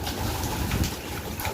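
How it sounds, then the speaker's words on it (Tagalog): Strong storm wind buffets the microphone in a steady low rumble with gusty surges, loud and close, with rain and flooding water around and no talking. "Ang lakas ng hangin ha."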